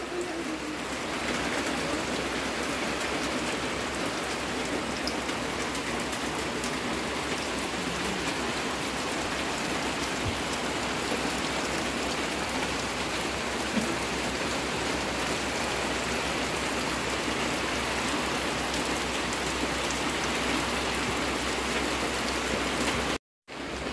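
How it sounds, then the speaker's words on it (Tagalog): Steady rain falls on a Philippine outdoor setting, a dense, even hiss of drops that holds constant throughout, with a brief cut near the end and no talk. "nabasa na yung ulo ni Russell sa ulan"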